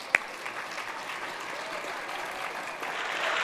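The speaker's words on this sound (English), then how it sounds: "How about a big round of applause for Tony?" A gala crowd applauding Tony at an autism benefit, continuous dense clapping from a large room after a single sharp knock at the start, swelling slightly louder toward the end, no talking.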